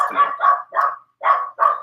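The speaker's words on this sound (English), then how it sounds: "The dogs are a little bit noisy today." Dogs barking nearby, five loud sharp barks in quick succession with a brief pause before the last two, no talk over them.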